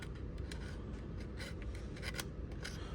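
Knife blade rough-cutting the leather or material of a pocket holster: quiet, close scraping and snipping strokes repeating in an uneven rhythm.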